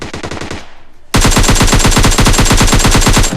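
Rapid automatic gunfire in PUBG Lite rattles out in dense, loud bursts, a short volley followed by a brief lull and then a longer, sustained stream of close shots.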